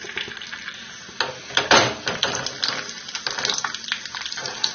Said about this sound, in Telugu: జీడిపప్పు కిస్మిస్ వేసి వేయించుకోవాలి.